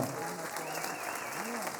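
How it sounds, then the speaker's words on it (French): Applause after an autumn concert by a municipal harmony band, a soft, steady wash of clapping heard from some distance, with faint voices and tonal murmurs mixed underneath. "On les applaudit encore bien fort"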